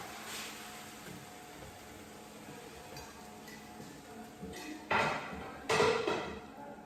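An oriental-themed serving dish clinks and knocks twice at close range while a vegetable stir fry is plated, the sharp ceramic contacts standing out over a low steady kitchen background.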